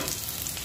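Onions sautéing in a pan for a tofu and kangkong dish with oyster sauce, a steady soft sizzle and frying hiss with no voices.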